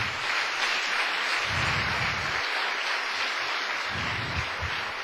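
A church congregation at a pastors' meeting claps in a sustained, dense wash of applause that holds steady throughout, with low rumbling crowd noise beneath.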